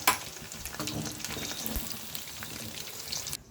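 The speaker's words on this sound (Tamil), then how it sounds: "இது நல்லாவே ஃப்ரை ஆகிடுச்சு" Chicken pieces frying in oil for Tamil chicken thokku give a close, steady crackling sizzle that fills the whole stretch without talk, ending with a brief clatter.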